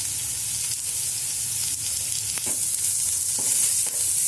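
Grated carrot and onion sauté in a pan while being stirred, producing a loud, steady close sizzle broken by several sharp spoon scrapes and clinks, with no talking.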